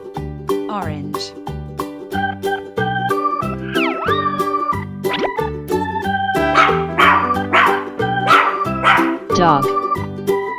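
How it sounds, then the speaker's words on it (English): A recorded dog barks several times in short yapping bursts from a children's toy, loud and close over a bouncy music track with a steady beat. "Dog."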